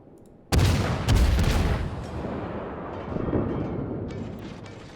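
Naval gunfire from ships in World of Warships, heard as a sudden heavy boom followed by a second blast and a long rumbling decay, with faint clicks toward the end.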